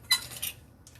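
Metal measuring spoons clinking together as they are rummaged through, two quick bright jangles close by followed by a fainter rattle, no voices.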